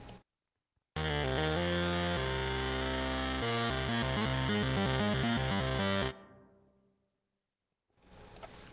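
A loud, gritty Z3ta+ software synth with valve amp distortion and decimation plays a stepping, pulsing bass-heavy pattern for several seconds, then decays away into silence.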